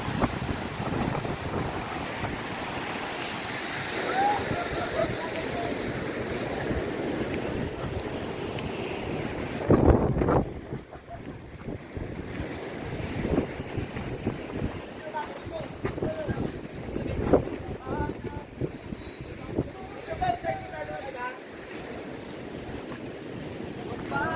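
Strong floodwater from a typhoon rushes near a bridge under construction in Camarines Sur, a steady, broad roar mixed with wind buffeting the microphone, with someone talking over it.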